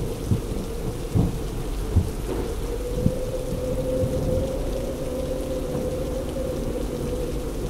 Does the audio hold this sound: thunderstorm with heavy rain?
yes